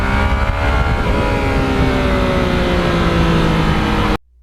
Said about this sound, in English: still holding that throttle wide open.